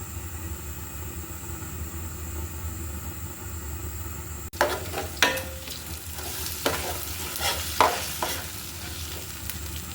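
Panch phoron spices and a bay leaf hit hot oil for a garlic pickle: a low hum gives way midway to a sudden close sizzle with sharp, scattered crackles and pops.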